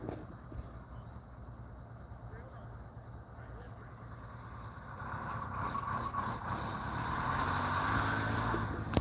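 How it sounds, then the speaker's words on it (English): A historic public service transit bus climbs a highway during a festival parade, its engine a steady low rumble that grows louder and rougher over the last few seconds as it draws nearer. "Listen to that engine purr."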